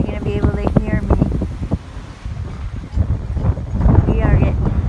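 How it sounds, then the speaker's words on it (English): Strong gusts roar across the microphone on Maui's North Shore, a constant buffeting rumble with surging peaks while a person talks loudly over it throughout. "It is so windy."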